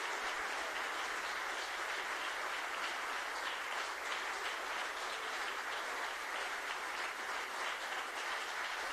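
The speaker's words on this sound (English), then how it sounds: "Please give a warm round of applause to the choir" Sustained applause from a large crowd for a choir at an awards ceremony, a dense, even wash of clapping that stays steady for the whole stretch.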